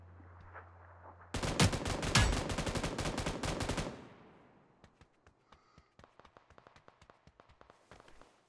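Loud automatic gunfire in PUBG New State, with a dense rapid burst of shots lasting a couple of seconds, followed by scattered lighter, more distant single shots and clicks.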